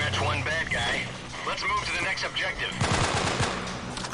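Rapid automatic gunfire crackles in the Delta Force: Black Hawk Down video game, bursts of shots mixed with radio chatter, while a player talks excitedly over the action.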